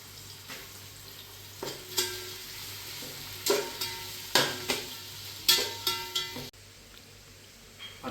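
Half a kilo of onions fry in a pan for brinjal biryani, a steady low sizzle broken by repeated sharp scrapes and clinks as a spoon stirs them, with a few louder strokes clustered mid-way.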